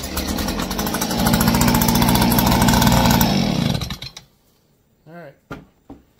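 A Stihl handheld blower's small two-stroke engine starts, runs loud and buzzy for about four seconds on choke, then sputters and dies, followed by a few faint clicks and a short voice.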